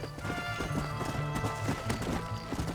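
Horses gallop in Red Dead Redemption, rapid rhythmic hoofbeats pounding close by, mixed with whinnies and game music underneath.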